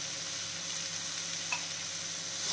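Chopped chow chow (chayote) sautés in a pan over a medium flame, a soft steady sizzle with a faint clink of a spoon or spatula near the middle, close and alone.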